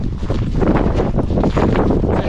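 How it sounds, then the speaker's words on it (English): Strong wind roars steadily against the microphone on a hike through volcanic terrain in the Galapagos, a loud, continuous buffeting rush with gusty swells and no speech. "Windy."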